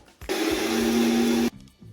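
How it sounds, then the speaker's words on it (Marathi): A kitchen mixer grinder whirs loudly through a spice paste with water for just over a second, a sharp steady motor whine that starts and stops abruptly, with faint clicks before and after. "त्यात तीन ते चार चमचे पाणी टाकून आपण पुन्हा मिक्सरमध्ये फिरवून घेणार आहोत"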